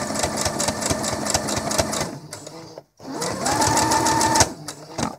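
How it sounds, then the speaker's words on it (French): Sewing machine running a long straight stitch on a T-shirt collar, a close, fast, steady mechanical chatter that pauses briefly and resumes. "je viens ici coudre au point droit, un point allongé et souple, à 3 mm du rebord"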